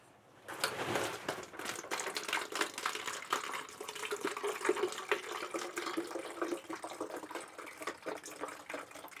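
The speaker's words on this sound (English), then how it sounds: "So we're going to pour some of this in here." Liquid for a homemade red wine is poured steadily into a container, a continuous close splashing gurgle that starts after a brief quiet moment and runs unbroken to the end.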